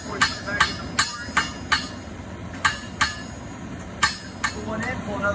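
Hammer blows on hot steel while forging a hook taper, a steady run of sharp metallic strikes, about ten over five seconds with a short pause midway, loud and close over low forge roar.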